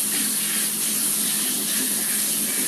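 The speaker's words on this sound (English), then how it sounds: "So let me rinse our beaters off." Tap water runs steadily as mixer beaters are rinsed under the faucet, a continuous close splashing gush that stays even with no pauses.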